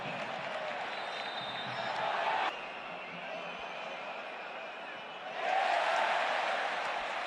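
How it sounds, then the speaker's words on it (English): Stadium crowd at a football match roars in a steady broad wash, swelling in two louder bursts of cheering, with no clear talk over it. "Another huge cheer as Gerard Martin went to 0-0."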